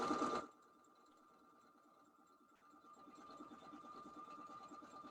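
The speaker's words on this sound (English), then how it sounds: "That seems to be stitching just fine." A sewing machine stitching a zipper bag made of lined minky fabric, a short loud burst followed by a quiet pause, then a steady, even mechanical whir as stitching resumes.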